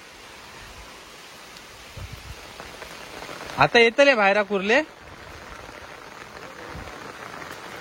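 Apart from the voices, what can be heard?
rain shower falling outside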